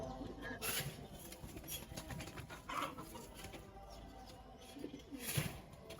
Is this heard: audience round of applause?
no